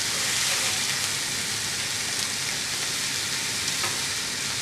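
Steady, continuous sizzling of patties frying on a hot surface, dense crackling hiss throughout with no talking.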